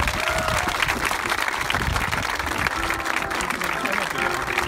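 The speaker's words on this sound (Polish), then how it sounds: "Wielkie brawa na nich!" A large audience applauds seminarians at a gathering, with thick, continuous clapping and some cheering throughout, and voices mixed into the crowd noise.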